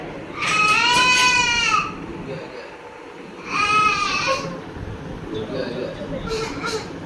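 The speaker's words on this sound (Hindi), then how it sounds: "बकरी देख" A goat bleats in two long wavering cries a couple of seconds apart, then gives a fainter, shorter call, close by over a constant background hum.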